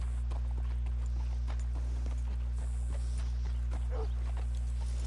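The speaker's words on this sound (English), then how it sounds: "Hitch your horse up here." Horse hooves clip-clop steadily in Red Dead Redemption 2, a close, regular walking rhythm over a constant low hum of game ambience.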